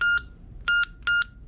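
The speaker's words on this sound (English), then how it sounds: "your buzzer would go off" Three loud, harsh electronic buzzes in a row, each about a fifth of a second, evenly spaced with short silences between.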